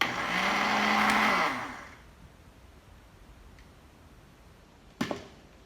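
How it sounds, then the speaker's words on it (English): A blender whirs loudly on frozen banana for a facial mask for under two seconds, then cuts off into near quiet, followed by a single sharp click. "Now we can kind of blend some of this"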